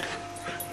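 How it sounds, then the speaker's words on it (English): A small dog whimpers in high, squeaky bursts, close by and fairly quiet, with a faint steady background hiss. "Who's making that squeaky noise?"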